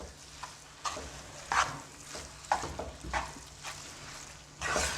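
Carrot halwa being stirred in a pan, a soft frying hiss under a series of scraping, clattering strokes of a spoon at irregular intervals, fairly quiet and close with no talking.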